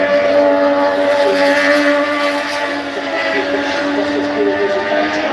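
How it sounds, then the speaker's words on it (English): Moto2 racing motorcycles during qualifying at Silverstone, a sustained high-pitched engine whine with shifting tones as bikes pass at a distance, steady and fairly loud throughout without audible talking. "So these are the MotoGP 2 bikes"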